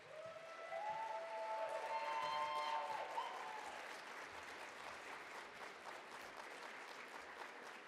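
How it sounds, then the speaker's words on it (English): Sustained applause from a large audience at a conference opening session, steady and dense throughout with a brief tonal whistle early on. "let's give everybody another round of applause"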